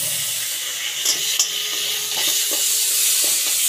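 Bay leaves fry with ginger and onion paste in hot oil, a bright, steady sizzle with a few soft scrapes and taps of a spatula against the pan.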